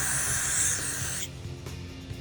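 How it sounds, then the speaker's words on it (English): Aerosol can spraying into the engine of a four-wheeler ATV during repair: a steady, close, loud hiss lasting over a second that cuts off abruptly, followed by quieter workshop background. "Let's spray some down in here."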